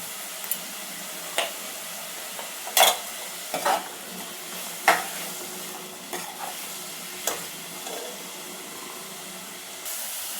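Tomato frying in a pan for a radish sambar, a low hiss of sizzling punctuated by irregular sharp clacks of a utensil stirring against the pan, close up and without speech.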